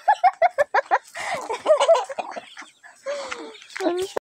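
Native hen clucking in a rapid run of short, close clucks, followed by scattered clucks and squawky calls, with a person's voice mixed in.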